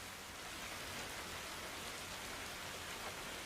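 Steady rain in the ARMA video game, a dense, even hiss of falling drops that holds without pause, fairly quiet and with no voices or thunder.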